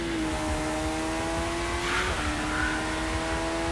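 A single-seater race car engine drones steadily at a circuit race, holding a high note, then shifting pitch as it changes gear midway, heard from moderate distance without talk.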